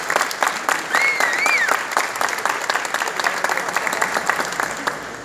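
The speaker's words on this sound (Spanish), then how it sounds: "esas muchachas que estaban allá adelante sirviendo esa sangría se merecen un gran aplauso" A crowd at a student tourism event breaks into lively, sustained clapping close by, with a short whistle or cheer rising above it early on.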